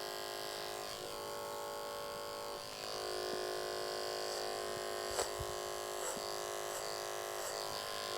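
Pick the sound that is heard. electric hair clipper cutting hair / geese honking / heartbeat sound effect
electric hair clipper cutting hair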